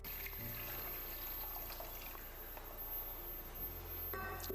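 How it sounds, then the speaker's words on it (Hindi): Measured water being poured into soaked millet in a kitchen makes a steady, soft, continuous trickling splash over a low hum. "उसके बाद मैंने 5 से 6 गुना पानी जो है वो माप के रखा हुआ है, अब मैं इसमें डाल रही हूँ।"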